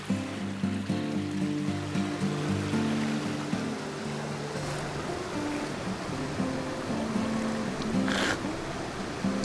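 Cold mountain water in Dawsonville in the Appalachians rushes over rocks in a constant broadband wash, near and steady, with a faint tonal undertone.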